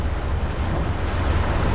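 Heavy rain pours onto a truck in a continuous dense roar, close and loud, with a deep rumbling low end and no voices over it.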